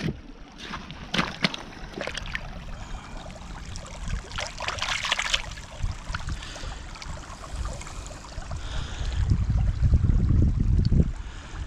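Creek water flowing and trickling while an old coin is rinsed clean, with steady wet splashing throughout and a louder, fuller rush of water near the end.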